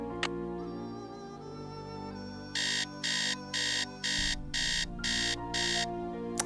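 An alarm clock in the Nancy Drew game Message in a Haunted Mansion rings in seven sharp, evenly spaced electronic bursts over a low background drone, loud and close, with no talking.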